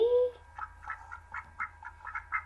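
A short tone opens, then a series of soft, nasal quacks repeat at an uneven rhythm, faint and fairly close over a low hum.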